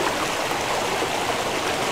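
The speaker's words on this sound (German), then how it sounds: "Außer einem idyllischen Plätzchen mit Wasserfällen noch und Löcher." Waterfalls flowing in Mass Effect, a steady broadband rush of falling water that holds even and continuous throughout, with no voices.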